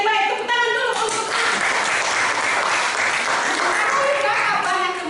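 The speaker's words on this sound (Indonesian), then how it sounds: "tepuk tangan dulu untuk" Students in a classroom break into loud, steady applause that fills the room, with children's voices talking over the clapping at the start and end.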